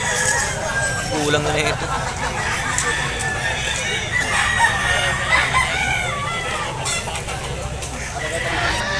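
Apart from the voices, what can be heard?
roosters crowing at San Jose del Monte animal market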